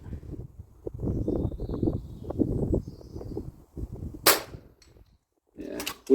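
An FX DRS .22 air rifle fires on an outdoor 100 m range, a sharp single crack near the end after rustling and handling noise, with wind buffeting the microphone.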